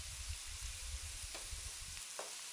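Chopped green chillies frying in oil in a pan for egg ukkuru, a steady close sizzle with a few soft stirring scrapes, no voices.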